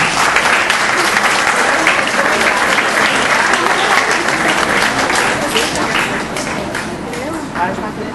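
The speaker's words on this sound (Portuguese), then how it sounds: "Uma salva de palmas a eles, por favor." A loud crowd at a youth parliament session in Visconde do Rio Branco, Minas Gerais, applauding steadily for the whole stretch, the dense clapping fading only slightly toward the end.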